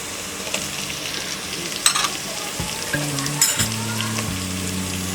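Cauliflower florets hit a hot oiled pan with cumin for potato pulao, setting off a steady close sizzle with occasional scrapes and clinks of stirring.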